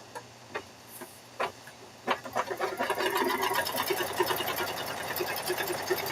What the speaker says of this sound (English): We're going to stitch around there again right quick.